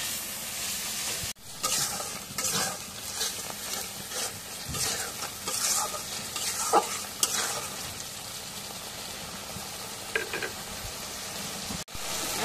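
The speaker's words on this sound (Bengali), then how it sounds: "এখন মশলা একটু নাড়িয়ে দিই।" Ground spices with cumin paste, ginger paste and garlic paste stirred and fried in a pan, a steady hiss under repeated scraping stirs for several seconds.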